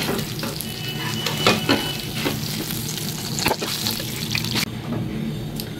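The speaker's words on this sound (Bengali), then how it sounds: "এই তেলের মধ্যে কালো জিরে ফোড়ন দিয়ে নিলাম" Nigella seeds sizzle and crackle in hot oil in a pan after fish heads have been fried, a steady loud frying hiss with a few sharper pops and stirring scrapes, no talking.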